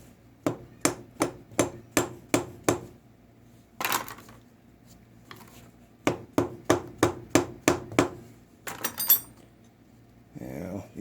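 A hammer taps a quick-change tool post into place on a lathe: two quick runs of about eight sharp, evenly spaced metallic knocks, separated by a brief scrape, followed by duller handling noises.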